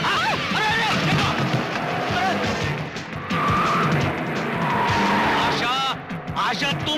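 Tires skid and squeal as a car drives fast in a Hindi comedy film, the loud screeches rising over engine noise and frantic overlapping dialogue, with a sharp squeal near the end.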